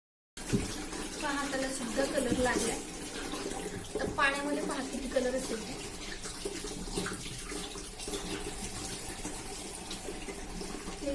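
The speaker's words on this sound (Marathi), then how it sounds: "आता यात स्वच्छ पाणी टाकून घ्यायचं" Clean water is poured into a large clay water pot used as a traditional summer cooler, a steady splashing pour that starts abruptly and runs throughout, loudest early on, with someone speaking over it.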